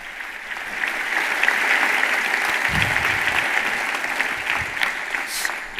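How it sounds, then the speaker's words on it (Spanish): A university auditorium audience in Rome's Sapienza aula magna gives loud, dense, sustained applause for four young people from Palestine, continuous clapping filling the hall. "Un fuerte aplauso a los 4 jóvenes de Palestina"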